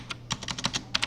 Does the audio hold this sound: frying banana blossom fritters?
no